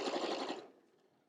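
Juki sewing machine stitching fabric for no-show socks: a short, close burst of rapid needle whirring that stops abruptly after about half a second, leaving a faint tail of room noise.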